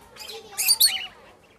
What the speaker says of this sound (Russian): Представляете, гляньте, как близко подошел белый попугай.